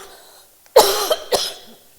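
A woman coughs twice from a throat irritation, two sharp close bursts about half a second apart, alone with no talk.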